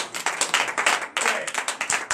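A congregation claps rhythmically at a morning prayer service in Benin, acclaiming God; steady, fairly close handclaps in a lively pulse with faint voices underneath.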